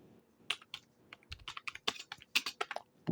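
Typing on a Dark GK1000 keyboard with soft keys: quick, close, fairly quiet clicks in irregular bursts, with a few fuller thuds from the space bar and no talking.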